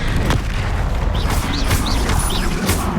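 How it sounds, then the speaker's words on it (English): In Hogwarts Legacy, an Expelliarmus spell is cast during a duel: heavy booming impacts mix with quick, rising magical swooshes and chirps that repeat several times in close succession, all loud and near. "Expelliarmus."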